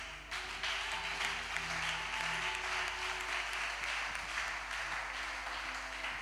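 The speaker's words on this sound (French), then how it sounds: "acclame bien pour Jésus" A church congregation applauding and cheering for Jesus, a fairly faint, steady wash of clapping with a low hum underneath.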